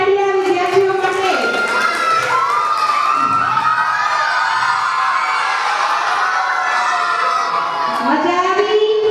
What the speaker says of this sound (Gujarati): જોરદાર તાળીઓ વિદ્યાર્થીઓ માટે.